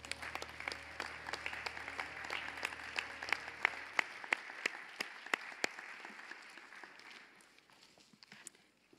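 Audience at a dental hygiene white coat ceremony at the University of Minnesota claps, distinct individual claps standing out over a soft crowd wash, gradually thinning and fading toward the end.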